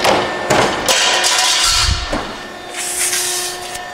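A Piranha hydraulic power shear cuts metal plate, giving a sharp clanking snap and heavy thud followed by a hissing hydraulic release, nearby in a workshop with no talk.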